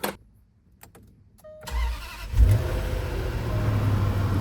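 A car engine is started after its fuel injectors were replaced. The starter cranks briefly and the engine catches with a loud surge, then settles into a steady, close idle. No one speaks.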